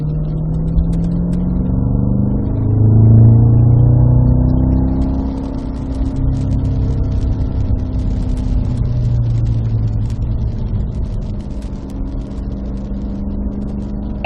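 A Cadillac CT5-V Blackwing with six-speed manual accelerates down a wet track straight at Spring Mountain in Pahrump, its loud engine note rising and sweeping through the gears close to the microphone, with no talk over it.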